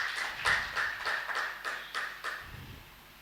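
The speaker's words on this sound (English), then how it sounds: "Give him a round of applause, please." An audience at a business law event claps in brief applause, a run of rhythmic, fairly close claps that fades out after a few seconds.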